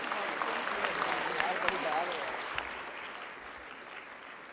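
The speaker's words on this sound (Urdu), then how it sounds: "آپ کی بھرپور تالیاں لیڈیز اینڈ جینٹلمن" Sustained applause from an event audience, dense and steady for the whole stretch, gradually easing toward the end.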